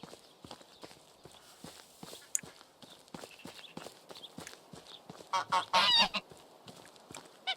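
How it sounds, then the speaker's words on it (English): Geese in the medieval village game Medieval Dynasty honk repeatedly, with a loud cluster of close honks near the end, over steady footsteps and clip-clop sounds. "More geese."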